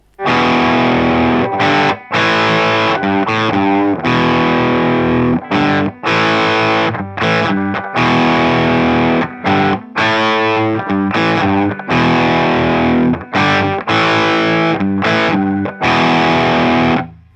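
A distorted electric guitar plays a chunky verse riff in repeated phrases with short gaps between chords, loud and close, with no voices.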